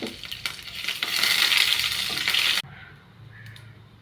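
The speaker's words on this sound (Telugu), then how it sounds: "లైట్గా ఫ్రై అవుతుంది." Cumin, mustard seeds, three dried red chillies and curry leaves frying in hot oil give a bright, steady sizzle with light stirring scrapes, which cuts off abruptly partway through and leaves a fainter crackle.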